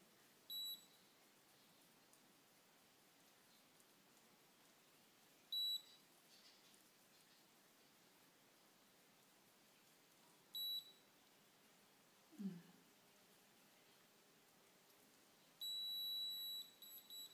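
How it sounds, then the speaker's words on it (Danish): A galvanic spa facial device gives a few short, quiet beeps during a skin treatment. The beeps are spaced several seconds apart, and the last tone is held longer, with no speech around them. "Så sagde den bip, bip, bip."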